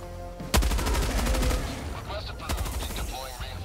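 A weapon in Helldivers 2 fires, with a sharp onset and then a rapid burst of close, loud shots lasting about a second, followed by a second shot and scattered battle noise.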